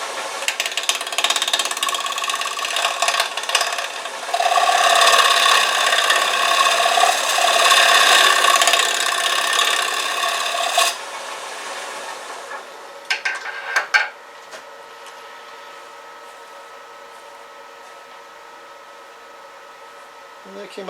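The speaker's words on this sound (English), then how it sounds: "So now I'm just going to scrape away the high point of the coffee grinds." A hand tool scrapes down a coffee-grounds inlay hardened with CA glue on the coloured rim of a turned wooden platter, a loud, harsh, continuous rasp that drops to a quieter scratching after a few sharp bursts.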